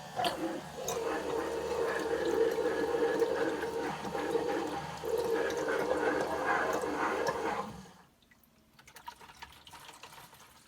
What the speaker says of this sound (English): So you can see the water being sucked it up.